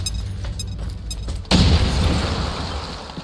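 A grenade blast in XCOM 2: War of the Chosen, a sudden loud boom that hits midway and rolls into a broad, rumbling tail, following quieter game ambience with faint clicks.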